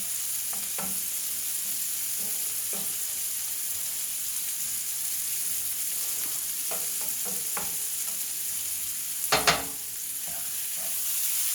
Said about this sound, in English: Go ahead and stir up all the meats. There we go, that's cooking nicely.